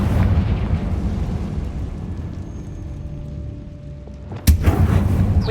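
A Confringo explosion spell in the Hogwarts Legacy video game bursts with a sharp, loud boom near the end, following a stretch of rumbling game ambience.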